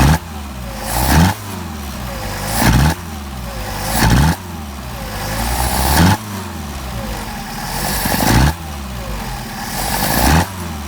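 A Mercedes 190SL engine with freshly rebuilt carburetors revs up repeatedly, about six loud, close bursts that rise sharply and drop back to a steady idle between them.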